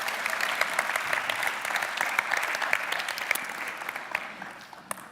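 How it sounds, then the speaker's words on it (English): Sustained applause from a conference talk audience, a dense wash of clapping that holds steady and then thins out toward the end, with no talking. "Give her a round of applause."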